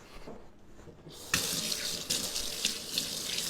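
A kitchen tap runs over meat being rinsed for a pot roast, starting after a quiet second, then a steady close hiss of water splashing in the sink with small surges.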